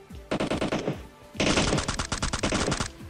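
Two close bursts of rapid automatic gunfire from players shooting a bot in PUBG Mobile, a short volley followed by a longer sustained one, loud and with no talk over it.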